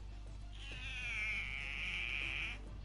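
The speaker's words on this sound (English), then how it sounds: "I've got a cat that's just run in and now started meowing at me" A house cat gives one drawn-out, squawking meow lasting about two seconds, fairly close and clear over a low steady room hum, with no talking.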